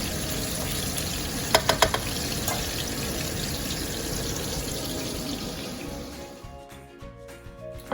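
Thai fishcakes, tod mun pla, frying in hot oil, a dense steady crackle with a few sharp clatters early on, fading near the end as they come out of the pan.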